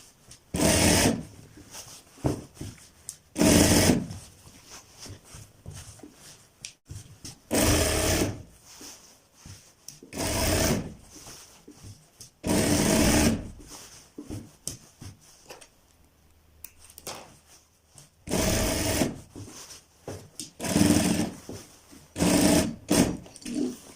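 A sewing machine stitching the belt of a Patiala salwar, running in short repeated bursts of rapid mechanical whirring separated by quiet pauses, close and fairly loud.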